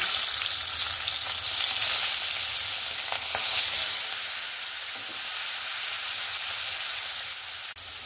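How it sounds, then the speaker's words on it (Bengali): Prawns fry in hot oil, left from frying potatoes, with a loud, steady, close-up sizzle and hiss that holds evenly from start to finish. "এবার আমি ওই তেলের মধ্যে চিংড়ি মাছগুলোকে ভেজে নেব।"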